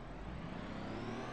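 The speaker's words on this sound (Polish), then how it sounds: "Nie no, dobrze słychać auta." A car engine in the video game BeamNG.drive hums and whirs steadily, a smooth motor drone with a slight rising pitch, close and continuous.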